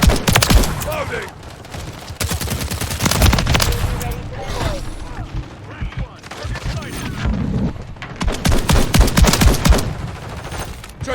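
Dense gunfire in Call of Duty MW3 team deathmatch, with rapid automatic bursts and heavy booming shots layered loudly and continuously while voices call out over the shooting.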